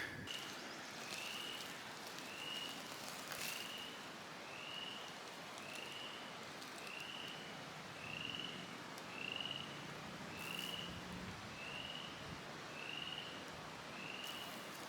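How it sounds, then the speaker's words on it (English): Faint, rhythmic frog calls repeat about once a second over a soft, steady wash of rain-like outdoor noise. "I figure we'll come down here where I can hear the frogs"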